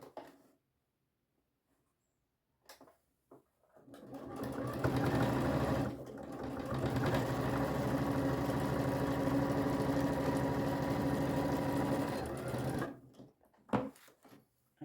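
A sewing machine stitching a necessaire box runs in one long steady whirring burst of about eight seconds, with brief clicks and handling noises before and after it.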